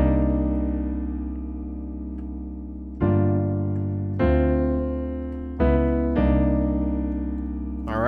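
Piano playing four smooth chords from a song, each struck and left to ring and fade, clear and close with no voices.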